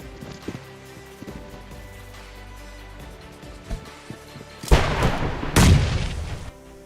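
Grenade explosions in PUBG Mobile, two loud heavy booms in close succession near the end, preceded by quieter in-game thuds and footsteps with a steady background tone.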